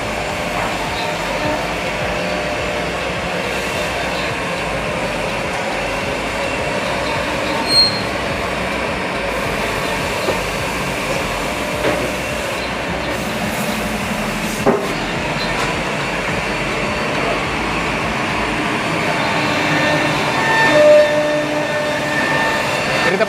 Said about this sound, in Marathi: पाठीमागे जे बघू शकता एकदम मोठी मशीन जो की प्लायला खाचण्याचं काम करत आहे